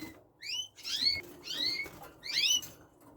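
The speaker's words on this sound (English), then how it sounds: "In the back, the red factor male. Very beautiful bird." A red factor male canary gives a few short, bright chirps and rising whistled notes in bursts, close and clear against a quiet room.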